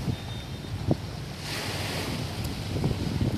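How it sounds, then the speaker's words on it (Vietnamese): Sea waves wash steadily onto Vung Tau beach in Vietnam while wind buffets across the scene, a continuous broadband roar with a few soft thumps and swells, with no voices. "nghe được cái tiếng sóng biển cũng như cái tiếng gió"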